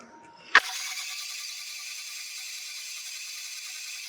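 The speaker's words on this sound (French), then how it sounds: "je suis désolée pour le bruit du mixeur" A kitchen blender mixing a spinach smoothie kicks on with a sharp click and then whirs at a steady, high-pitched, continuous drone close by, with no speech over it.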